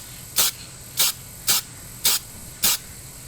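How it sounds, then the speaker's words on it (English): Five short hissing bursts of an aerosol spray paint can used on a vehicle's upper control arm, evenly spaced about half a second apart, close and crisp against a quiet background. "Get your rattle can"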